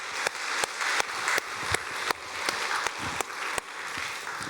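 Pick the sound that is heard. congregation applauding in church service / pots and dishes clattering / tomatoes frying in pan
congregation applauding in church service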